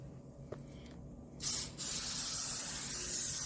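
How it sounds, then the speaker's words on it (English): After a quiet click, an aerosol can of butter spray sprays in a short hissing burst, pauses, then hisses again in a longer, steady spray close by. "I'm going to spray this butter with the butter spray."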